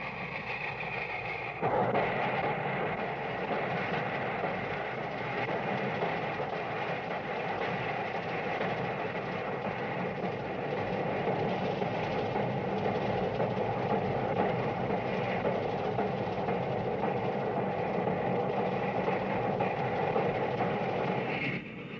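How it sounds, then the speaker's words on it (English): A Big Boy steam locomotive running: a loud, continuous, rumbling and roaring mechanical din starting abruptly near the beginning and holding steady throughout, without speech. "The shattering sounds from its stacks and the moan of its chime whistle more stirring than any concert hall"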